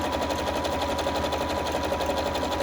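A bernette 37 sewing machine stitches fabric with fused interfacing, a steady, rapid mechanical whirr and needle chatter that runs continuously, close and fairly loud, with no voices.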